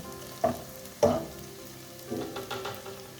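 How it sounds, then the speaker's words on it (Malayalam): Spices with pepper powder and crushed chili are stirred in a pan over a low flame for a Kerala red cowpea thoran. Two quick scraping knocks are followed by a soft, steady sizzle and stirring. "ഒന്ന് വഴറ്റിയെടുക്കാം."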